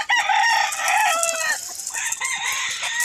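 Roosters at a rooster farm crow loudly and close by, with clucking fowl mixed in, filling the short stretch without any talking.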